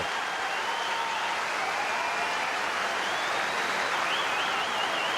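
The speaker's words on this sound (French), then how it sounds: "Et applaudi par Safin lui-même." Crowd applause in a stadium at the 2005 Australian Open tennis semifinal between Federer and Safin, a dense, sustained clapping roar that stays loud and even throughout with faint whistles.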